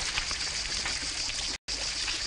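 Water poured out to give someone a drink, a steady splashing trickle broken by one brief gap, close and fairly loud with no voices.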